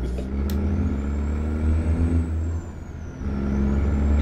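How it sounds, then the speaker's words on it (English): A semi truck hauling a grain load rumbles steadily nearby with a deep, continuous engine drone and a faint high whine, its pitch dipping briefly midway before settling again. "I love the sound of his engine too."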